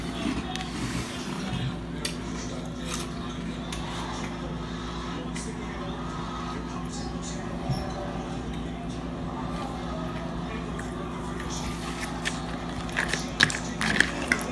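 Close crunching and chewing of Nutter Butter Post cereal, with repeated bites and a steady mouth-noise texture that runs throughout at moderate loudness.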